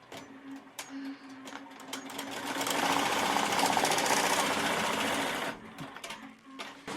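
An embroidery machine stitching green thread on a real order, its rapid mechanical needle hammering rising loud and steady in the middle after quieter clicks and handling, then stopping.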